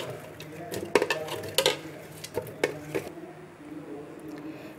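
Chunks of roughly chopped watermelon, seeds still in, drop into a blender jar with a quick run of knocks and clatters, then the kitchen settles into quiet room tone.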